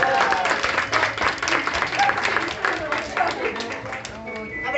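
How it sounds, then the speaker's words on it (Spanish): Guests at a baby shower clap together in a lively, fairly close burst that rises and dips before tapering off toward the end. "Un fuerte aplauso para ellos."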